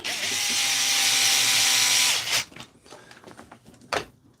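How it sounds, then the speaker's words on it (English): A loud electric screwdriver drives screws into a radio-controlled model car, whirring steadily for about two seconds before cutting off, followed by small handling clicks and one more short burst near the end. "Sorry if this screwdriver's too loud."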